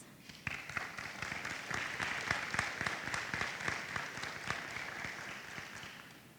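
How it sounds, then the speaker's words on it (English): Ceremony guests clap in a sustained round of applause at a military veterinary detachment inactivation ceremony, with crisp individual claps forming a dense, even patter that starts suddenly and tapers at the end. "Please give a round of applause for all of our guests."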